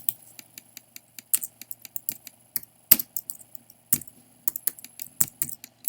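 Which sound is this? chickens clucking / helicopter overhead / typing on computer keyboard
typing on computer keyboard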